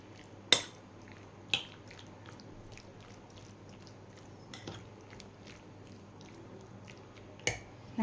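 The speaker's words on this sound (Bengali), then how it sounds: "খুব ভালো করে এটাকে মিশিয়ে নেব।" A spoon mixes mini pizza topping in a bowl, giving a few sharp, separate taps against the bowl over quiet, faint scraping, with no voices.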